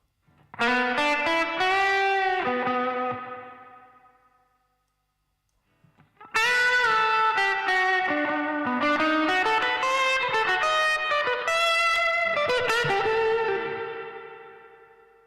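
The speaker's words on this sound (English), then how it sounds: "I'm going to need some ambience on this guitar sound." Electric guitar chords and melodic runs drenched in spacious ambient reverb, notes ringing out and decaying into a wash, with a brief silence between phrases.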